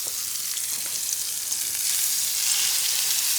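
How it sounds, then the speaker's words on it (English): Swordfish steak sears in hot oil with a steady, dense sizzle and crackle, close and loud, with no voices. "We just want to let this sit and sear so we create that caramelization"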